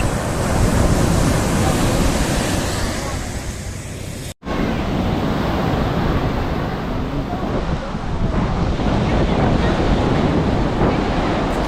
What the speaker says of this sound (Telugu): ఆ చల్లని గాలి, చుట్టూ ఆ సముద్రపు అల్ల శబ్దం మైండ్ అంతా పీస్ఫుల్గా